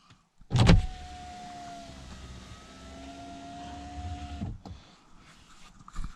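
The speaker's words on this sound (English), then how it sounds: "And obviously drop your window down" A car's power window motor whirs steadily as the window travels down, starting after a sharp clunk and ending with a thud, then a few faint knocks, close and alone with no talk.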